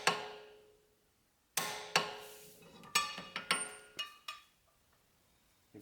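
Torque wrench tightening an Infiniti Q50 axle nut to 92 foot-pounds during a wheel bearing replacement, heard as a series of sharp metallic clicks and knocks close by, separated by short pauses.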